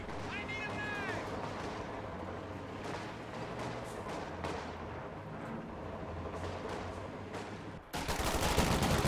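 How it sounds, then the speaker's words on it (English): Rifle volley fire and artillery-like gunfire from a World War II strategy game battle with riflemen, an M20 and a flak half-track, dense and continuous, with a louder burst near the end; a voice talks throughout. "I'm pretty sure that volley fire didn't do anything"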